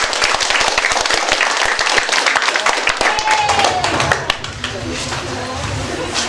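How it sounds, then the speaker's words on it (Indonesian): Students, families and staff at a sixth-grade farewell ceremony at an elementary school clap in a dense, loud burst of applause that fades after about four seconds into crowd chatter and a voice on the sound system. "Beri tepuk tangan untuk"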